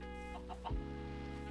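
Minecraft chickens give a few short, soft clucks over a steady hum of background game music, with one low thump near the middle.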